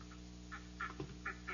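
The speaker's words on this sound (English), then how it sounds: "Here are the ducks." Ducks at a zoo in an old radio drama quack in several short, faint bursts spaced irregularly, with no voices.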